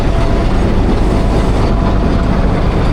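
A train passes at Attock City Junction in hot weather, a loud, dense, continuous rumble and rattle filling the whole moment close by.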